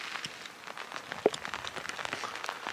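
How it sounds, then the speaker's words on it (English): Rain comes down during a foggy high-country mule deer hunt, a soft wash of drops pattering on nearby surfaces with scattered sharper taps and one louder knock midway, and no talking. "But a lot of rain."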